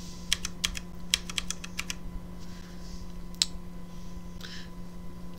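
Computer keyboard keys are pressed in quick bursts of clicky taps while editing video, close and clear over a steady electrical hum, then a few sparse single presses.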